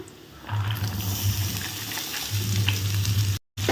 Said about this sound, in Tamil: நம்ம வெட்டி வச்சுருக்க கேரட்டை சேர்த்துருவோம்